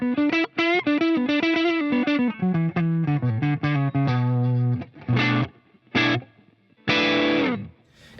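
Electric guitar played on the neck pickup through a Divided by 13 amp, a run of distinct picked notes and chords ringing out, then a few louder strummed chords with pauses between them, close and alone with no talk.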